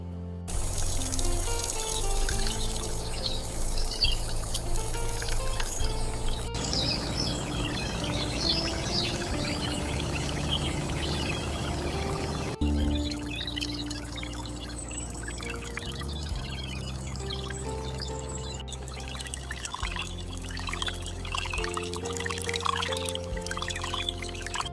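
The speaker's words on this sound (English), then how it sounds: "Pouring it in slowly." Marinade is poured slowly for a miniature chicken fry in an outdoor village cooking setup, a soft, steady trickle of liquid under birdsong and a layer of background music, with no talking.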